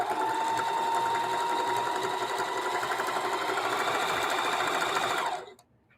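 A sewing machine stitches quilt fabric in a fast, steady whir that runs continuously for about five seconds, then winds down and stops abruptly, close and clear with no talking.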